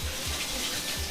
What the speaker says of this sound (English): I just wash my hands.